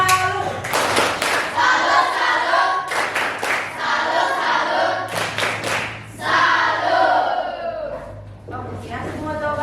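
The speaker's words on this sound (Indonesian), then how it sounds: "Tepuk salut." A classroom of students performs a rhythmic clapping salute, bursts of group hand claps in patterned beats mixed with children's chanting voices, moderately loud and near, with pauses between rounds.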